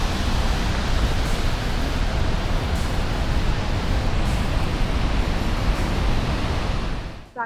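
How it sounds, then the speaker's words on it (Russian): A waterfall in Iceland roars in a steady, dense wash of rushing water, buffeted by strong wind, loud and continuous throughout before cutting off at the end. "смотрели на этот водопад сверху"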